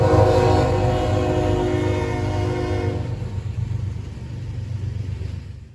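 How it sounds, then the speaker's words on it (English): A Norfolk Southern freight train, NS 148, rumbles past loudly on the Lafayette District at Catlin, Illinois, its horn blaring steadily for about three seconds before the rolling rumble of the cars carries on alone. "I saw NS 148 on the Lafayette District"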